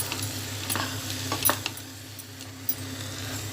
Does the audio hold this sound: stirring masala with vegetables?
yes